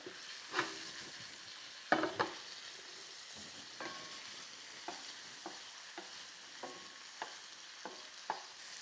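Mushrooms fry in butter in a pan with a soft, steady sizzle. Sharper scrapes and clicks come every second or so as they are stirred or turned. The sound is fairly close and quiet, with no talk.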